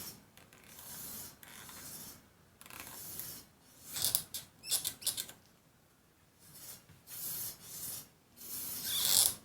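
A Sur Ron Light Bee electric dirt bike wheel spins with a newly installed IIIPRO floating brake rotor that is noisy, giving faint, uneven clicking and ratcheting bursts that swell and fade over a low background.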